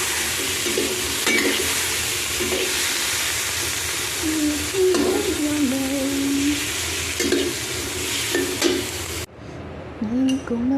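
French beans sizzling and being stirred in a pan for dinner, a steady close hiss of frying with intermittent scraping stirs, a voice talking over it in places before the sizzle cuts off near the end.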